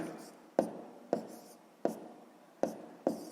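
Pen or pencil strokes on paper while a sixth-grade math solution is written out by hand, sharp scratchy taps recurring about every half second, close and fairly quiet, with no talk over them.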